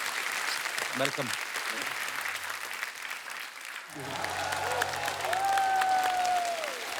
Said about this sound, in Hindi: अरविंदर पाजी के लिए जोरदार तालियां हो जाए।